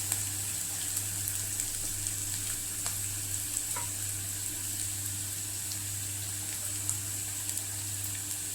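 Onion softening in a pan for a leftover chapati breakfast gives a steady, close sizzle with faint ticks and pops, joined by a constant low hum underneath.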